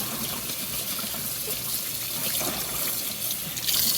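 Hot tap water runs continuously over cornhole bags in a sink, a loud, steady gushing stream with no talking.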